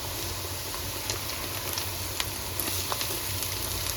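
Meat frying in a pan with oil at home, a constant close sizzle broken by small pops and crackles, with no voices.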